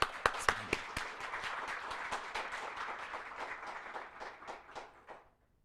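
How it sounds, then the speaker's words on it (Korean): A church congregation applauds its interns with a burst of many hands clapping, a few sharp claps standing out near the start before the sound gradually thins and fades away. "우리 인턴 분들이 다시 한번 큰 박수로 한번 격려와"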